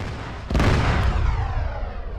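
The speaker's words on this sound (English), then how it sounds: "please use all remaining explosive charges" Explosive charges detonate in the military video game Arma, a loud sudden boom that rumbles and fades over a couple of seconds, with a second smaller crack right after.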